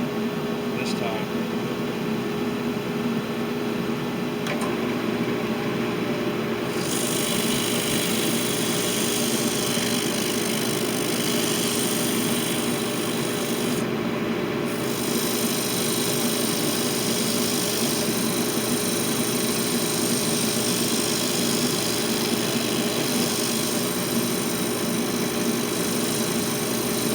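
A small banana wood bowl spins on a lathe while being sanded with 60-grit paper, a steady whirring motor hum with a constant high whine and a faint scratchy hiss running throughout.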